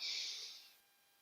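A single audible breath is drawn in during a breathing practice class, airy and close, fading away after about a second.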